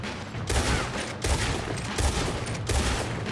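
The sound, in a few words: gunfire in a video game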